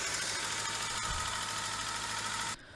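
A Saab 9-5 Aero engine, back in service after flood damage, runs at a steady, rough and growly idle close by, then cuts off abruptly near the end.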